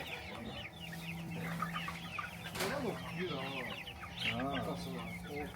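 Chickens and young chicks in a farmyard coop cluck and peep continuously, moderately close, with a steady low hum and voices talking faintly in the background.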